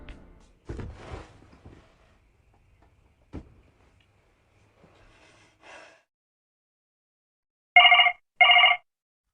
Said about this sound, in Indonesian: Jack dikagetkan dengan suara telepon berdering